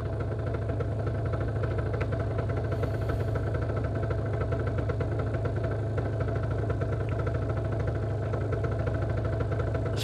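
A motorcycle engine idles steadily on a cold night, with a continuous low rumble and fine, even vibration throughout and no voices.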